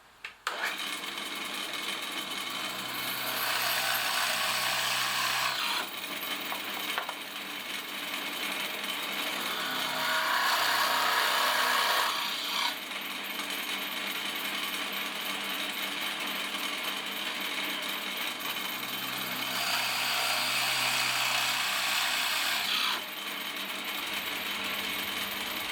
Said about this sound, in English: So now I just need to drill some holes in there for the vent.